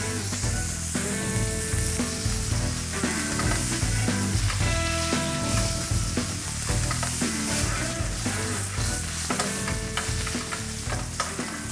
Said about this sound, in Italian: Facciamo un po' di basting in superficie